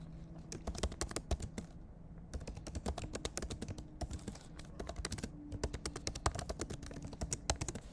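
Rapid clicking keystrokes on a computer keyboard, close and fairly quiet, tapping in uneven bursts with short pauses throughout.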